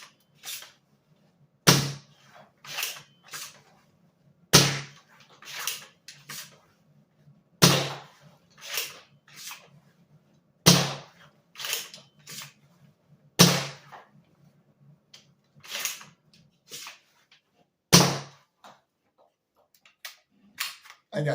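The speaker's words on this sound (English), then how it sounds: "I'm going to give you a firing demo of this blaster" A Talon Claw bullpup foam blaster fitted with a Pro 25 spring fires repeatedly, each loud, sharp snap arriving in an uneven rhythm of single and double shots, with softer priming clacks between them and a faint low hum underneath.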